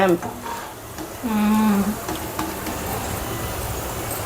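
Sarva pindi, a rice flour flatbread, frying in oil in a pan with a steady soft sizzle throughout and a brief louder tonal scrape near the middle.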